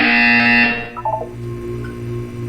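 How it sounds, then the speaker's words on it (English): A loud electronic buzzer tone in the video game Portal 2 sounds and cuts off, followed by a short series of quick beeping notes over a steady low hum. "You will hear a buzzer."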